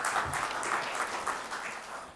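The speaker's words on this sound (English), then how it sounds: "Can we give a warm round of applause for Mr. Chris Gatford?" A conference audience at a cybersecurity event gives a short, warm burst of clapping, many hands in a dense patter that stays steady and fairly close for about two seconds.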